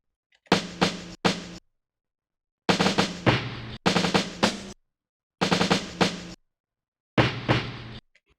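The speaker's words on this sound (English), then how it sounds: "then the next one, we get the snare roll." Snare roll in an FL Studio beat: loud clustered bursts of rapid snare hits, repeated in several short groups separated by brief gaps, punchy and close with nothing else heard.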